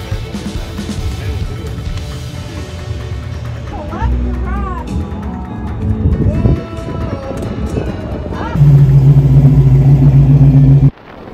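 A motor vehicle on a mountain road passes close by with its engine revving hard, rising and falling in pitch, then a loud sustained roar near the end, with people talking throughout over wind noise.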